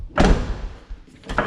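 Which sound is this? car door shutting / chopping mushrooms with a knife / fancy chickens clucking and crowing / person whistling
car door shutting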